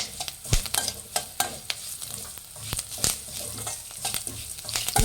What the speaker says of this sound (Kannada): ಚೆನ್ನಾಗಿ ಫ್ರೈ ಮಾಡಿ ಕರಿಬೇವು ಹಾಕಿ.